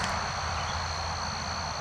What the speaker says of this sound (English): there's a lot of cicadas, traffic